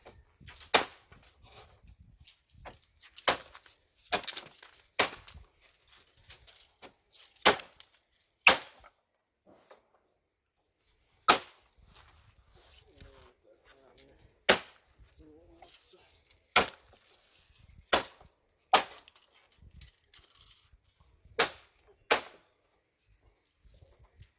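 Heavy chopping of meat and big bone, likely turkey neck, outdoors in Jamaica: about a dozen sharp, loud strikes at irregular intervals, with faint birdsong and quiet background between blows.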